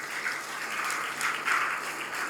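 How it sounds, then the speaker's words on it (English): An audience at a talk on AI-powered nation building claps in a round of applause for India, a moderate steady wash of many hands, somewhat distant, with slight swells. "Can we just give a big round of applause to this great nation?"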